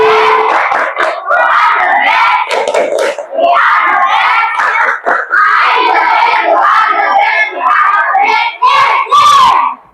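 A school class performs a rhythmic clapping cheer, loud young voices chanting together in bursts punctuated by sharp group claps, close and energetic with brief pauses between phrases.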